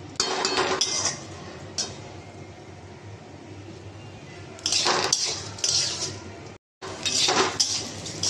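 Metal utensils clink and scrape against a cooking pot in short bursts, with a quiet stretch between them and a brief dropout near the end.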